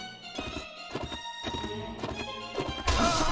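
A horse gallops in the medieval combat game Mount & Blade: Warband, its hooves striking in a quick, steady clip-clop rhythm, close and fairly loud over a bed of sustained background tones, with a heavier thump near the end.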